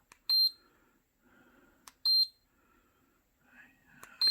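A 4K action camera, a 16MP WiFi waterproof sports model, gives short high electronic beeps, three of them spaced apart, with faint handling noise and a quiet voice in between.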